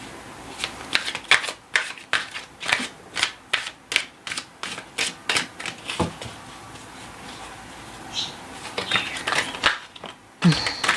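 Tarot cards are shuffled by hand in a close, steady run of crisp riffling bursts, pausing briefly before a few more quick rounds near the end, with no talking.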